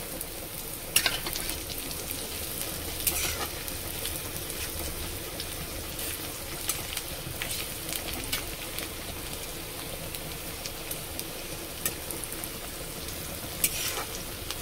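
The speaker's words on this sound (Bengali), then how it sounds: "এটা ভাজা হয়ে গেছে, এবার কাঁচা লঙ্কা কুচিয়ে রেখেছি, এটা দিয়ে দিচ্ছি" Chopped green chillies frying in oil for eggplant bharta give a soft, even sizzle like light rain, fairly quiet and continuous, with a few faint pops and no voices.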